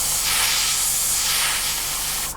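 An airbrush sprays black primer onto scale model aircraft parts with a steady, close, loud hiss that runs without a break and cuts off at the end.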